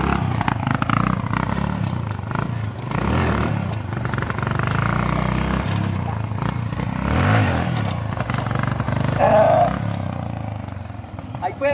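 A Yamaha XTZ 125 motorcycle engine runs roughly and unevenly, flooding and sputtering, rumbling nearby, with clattering and a voice speaking over it.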